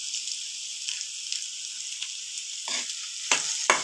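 Beetroot and onion palya with coriander being stirred in a pan, a soft steady sizzle with a few spoon scrapes toward the end, no one talking.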